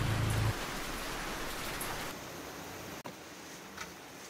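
Steady heavy rain hisses continuously outdoors, a dense wash of noise with a faint thump partway through.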